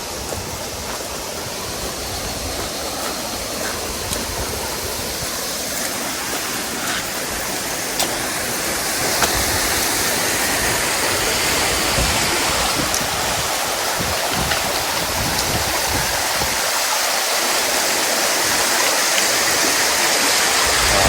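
Floodwater runs in a steady, dense roar past a storm-damaged road where a river overflowed after landslides from torrential rain, with no one talking over it.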